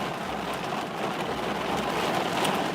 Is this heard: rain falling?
yes